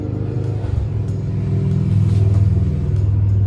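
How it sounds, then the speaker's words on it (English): A loud car engine rumbles close by, its deep growl swelling steadily as it revs up toward the end. "Everybody got a loud ass engine in this town, Jesus Christ."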